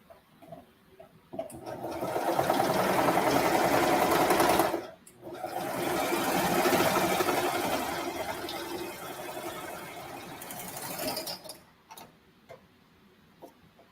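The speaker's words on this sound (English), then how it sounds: "I'm gonna go ahead and sew this waistband into a circle." A home sewing machine stitches a pajama waistband into a circle. Two long, close, rapid whirring runs are split by a short pause, with soft clicks at the start and end.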